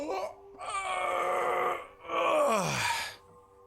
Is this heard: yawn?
yes